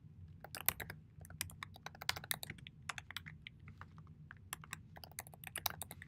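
Someone types steadily on a computer keyboard, a quick, irregular patter of close, crisp key clicks over a low background hum.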